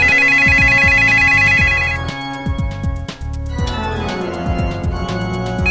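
A telephone ringtone plays a toccata in bright, loud electronic tones, a fast repeating pattern that shifts into a denser, echoing passage partway through.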